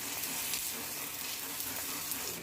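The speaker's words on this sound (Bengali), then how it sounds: "খুন্তি দিয়ে বা চামচের সাহায্যে এভাবে ব্যাটারটাকে চারিদিকে ছড়িয়ে দিচ্ছি" Batter spread with a spatula in a hot pan gives a faint, steady sizzle with light scraping, quiet and close, with no speech.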